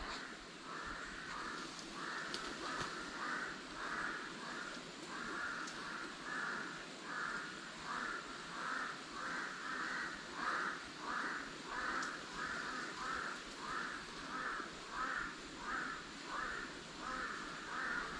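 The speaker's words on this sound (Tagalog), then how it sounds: "napakaraming uwak yun o nagdadaanan sa taas" A flock of crows caws steadily and repeatedly overhead, a rhythmic series of harsh calls with faint rustling beneath.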